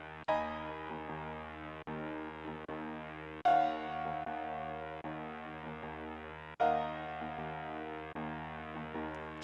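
Chopped sample triggered on pads and pitched up six notches, faint sustained tonal phrases restarting at regular intervals, each retrigger a small attack followed by a slow fade.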